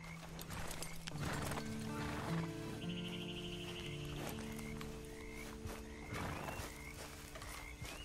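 A horse clip-clops along in the video game Red Dead Online, with steady hoof beats under ambient music and scattered wildlife calls, moderately loud throughout.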